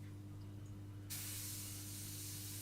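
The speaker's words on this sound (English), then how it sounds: "I'm just emptying out the airbrush." A hobby airbrush is emptied by spraying out the remaining paint, a sudden steady hiss of air that starts abruptly and holds at an even level. A low mechanical hum from the compressor runs underneath, and no one talks.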